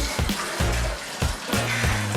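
Hot water poured into a bottle to fill it about two-thirds, a continuous splashing gush with bubbling pulses, close and loud, no voices.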